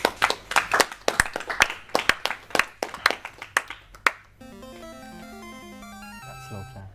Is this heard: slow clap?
yes